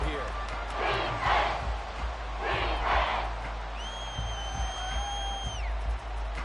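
Stadium crowd noise inside the dome in Madden 24 NFL football game, Saints versus Bears: a steady roaring swell rises and falls under a play-by-play commentator, with a short whistle-like tone near the end.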